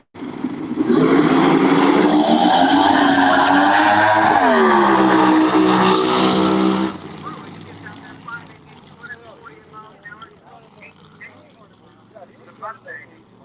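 A nitro drag racing car at the California Hot Rod Reunion launches down the quarter mile with a deafening, roaring engine for about six seconds. The roar then drops away to a distant rumble, with crowd and commentary voices underneath.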